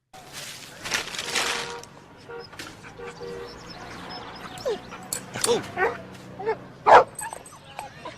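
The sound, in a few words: dog in a played video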